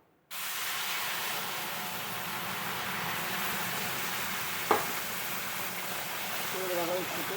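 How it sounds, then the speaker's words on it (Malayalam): A steady hissing rush of boiled hot water being poured onto roasted semolina in a pan for upma, continuous and close, with a brief sharp clink midway and faint talk near the end. "ഇനി നമ്മൾക്ക് അതിലേക്ക് തിളപ്പിച്ച് വെച്ച വെള്ളം ചൂടുവെള്ളം"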